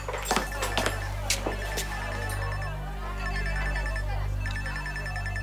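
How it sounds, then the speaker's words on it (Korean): A telephone in a Korean drama scene rings with a repeating electronic trill that comes in two bursts, steady and fairly clear over a low background hum, with a few soft clinks early on. "오빠 전화요."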